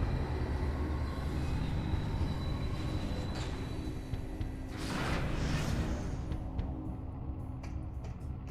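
A train rolls past in Metroid Prime 3: Corruption on the Wii, a steady low rumble of wheels with rising whooshing surges and a faint metallic squeal as it goes by, with no talk.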